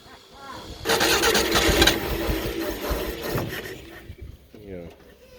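A 1975 straight-six engine, primed with starting-fluid spray, cranks and catches in a loud burst of roughly three seconds, then sputters and fades, with brief talk before and after.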